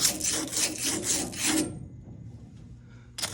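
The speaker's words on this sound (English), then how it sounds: "we're going to sand these ends off here, make them all nice and shiny new looking" Pipe ends are sanded clean and shiny by hand, several quick rhythmic rasping strokes close up, then a pause and one more brief stroke.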